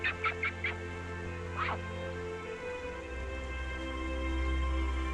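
Ducks by a riverside near Tongling Waterfall in Guangxi give a few short, nasal quacks in quick bursts, over a low steady rumble of flowing water.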